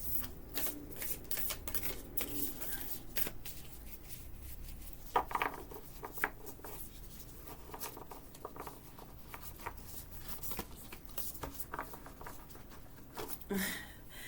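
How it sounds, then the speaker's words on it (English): Cards are shuffled repeatedly up close, a continuous papery riffling and flicking with occasional louder snaps, no talking. "These are such a workout to shuffle."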